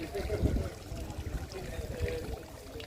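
A small water fountain in the Alcazaba of Malaga trickles with a soft, continuous burble, faint and steady, heard outdoors at close range.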